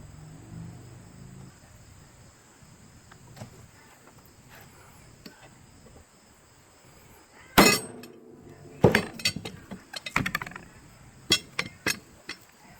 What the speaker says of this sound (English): I'm going to hit that with a punch.